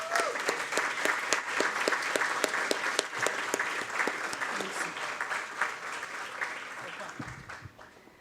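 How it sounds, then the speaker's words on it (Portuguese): Sustained audience applause fills a hall during an executive board meeting, dense steady clapping that holds for several seconds and tapers off toward the end. "Aplausos de todos nós."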